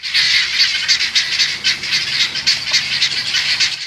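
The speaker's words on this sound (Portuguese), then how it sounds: "o alarme da galinha da Angola também alerta outros animais" A dense flock of guineafowl squawks continuously in harsh, overlapping alarm calls, loud and close, with no pauses.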